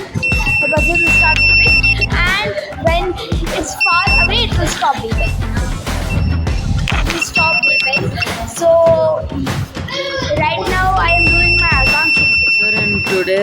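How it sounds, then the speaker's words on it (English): A robot's obstacle-sensor buzzer in a robotics class sounds repeated short high-pitched beeps in bursts, partly buried under near-constant children's chatter and classroom noise. "The buzzer will start beeping, and when it's far away, it will stop beeping."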